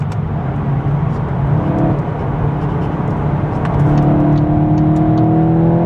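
A 2026 VW Golf 8.5 GTI accelerating hard from inside the cabin, a loud continuous engine drone rising in pitch as it revs up through the gears, with steady road roar underneath.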